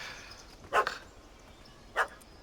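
A dog in The Witcher 3 video game gives two short, sharp barks about a second apart, fairly distant against a quiet background.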